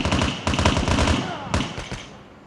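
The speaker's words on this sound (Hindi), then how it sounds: "तभी मुझ पर फायरिंग हुई" Rapid bursts of gunfire from a survival shooter video game set on a farm, several sharp volleys in quick succession, loud and close, with a few separate shots trailing off toward the end.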